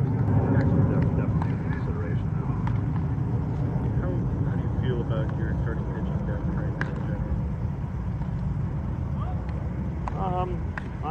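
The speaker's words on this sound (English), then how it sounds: "We'll kind of pop back in here right after that giant jet flies over" A giant jet flies low over a spring training complex in Mesa beside the airport, a loud steady roar filling the whole stretch, with faint distant sounds on top.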